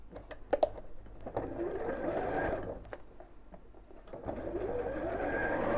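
A sewing machine sews straight across a simple box bag, producing a continuous, fairly quiet mechanical whir close by with faint clicks, and no talking.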